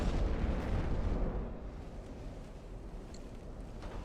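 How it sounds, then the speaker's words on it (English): A torpedo strikes a battleship in Ultimate Admiral: Dreadnoughts, heard as a deep, heavy rumbling explosion that swells and rolls on for seconds amid distant naval gunfire and churning sea noise. "we're going to get a torpedo hit on this guy back here, too"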